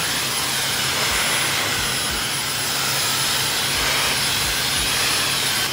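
A hair dryer blows in a continuous loud, airy roar close by while hair is dried, steady throughout with no talk over it.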